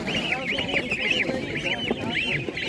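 Ducks and geese honk and quack repeatedly at a poultry market, a run of loud, close calls with little talk beneath them.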